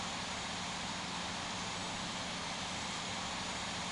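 Airbus A330 cargo airliner engines idling as the jet taxis toward the runway at Los Angeles in the Infinite Flight simulator: a steady, unbroken broadband roar with a low hum underneath and no voices.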